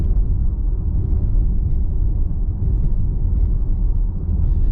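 Steady low rumble of a 2021 Audi Q5 Sportback driving over an uneven road, a continuous muffled drone heard from inside the cabin with no voices.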